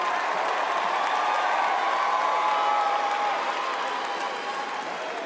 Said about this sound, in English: So that got the loudest cheer, I understand.